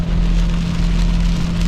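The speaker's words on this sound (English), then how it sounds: "It's raining pretty hard." Heavy rain pounding steadily on an E46 BMW race car while it drives, a dense continuous hiss over a low engine hum.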